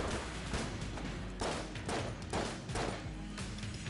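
Enemy gunfire in the video game Enter the Gungeon, a dense run of overlapping shots and thuds with several louder bursts, steady and close throughout.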